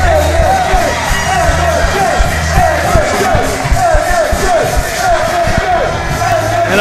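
Wrestling crowd at a live fatal four-way elimination match for the TV title, cheering, yelling and whooping in a loud, steady roar that fills the arena, with faint voices mixed in.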